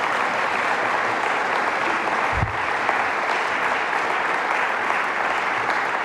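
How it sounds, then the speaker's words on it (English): A conference audience at the DjangoCon Europe 2023 closing session applauds loudly and steadily throughout, a dense, even wash of clapping from a large crowd with no talk over it. "Can we give him specifically a huge round of applause?"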